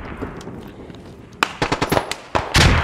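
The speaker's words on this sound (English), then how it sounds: "he just ran right into my grenade" In a video game, a grenade explosion follows a run of sharp gunfire-like pops and cracks. The final blast is loud and broad and lasts longer than the bursts before it.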